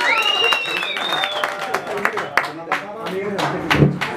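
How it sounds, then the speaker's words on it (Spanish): At a family mariachi serenade, a small gathering applauds with scattered clapping under cheers and lively voices, including high whistles or calls early on. "Entonces, un aplauso"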